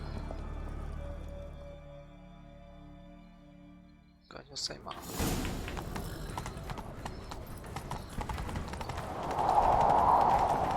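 Hooves clip-clop in a quick galloping rhythm, loud and close, after a quieter stretch of ambient tones; a horse whinnies faintly, in the video game The Witcher 3.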